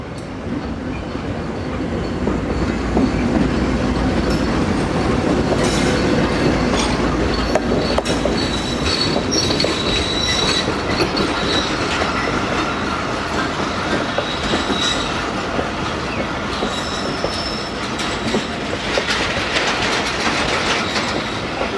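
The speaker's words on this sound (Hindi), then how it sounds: "AG30 के पीछे है जी लाहौर कराची के दरमियान चलने वाली 16 डाउन कराची एक्सप्रेस" The 16 Down Karachi Express, a Pakistan Railways train, rolls through Landhi Junction in Karachi with continuous wheel rumble, rhythmic clickety-clack over rail joints and occasional squeals, loud and close for the whole stretch with no talk.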